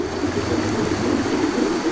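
A small river stream in a valley at Wonosalam, Jombang, East Java, flowing in the morning, with a steady, even rush of water close by and no voices.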